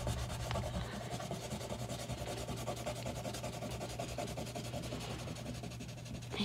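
A blue crayon colors in a triangle on paper for a color wheel, giving a steady, close, scratchy rubbing that runs continuously at low level with no voices.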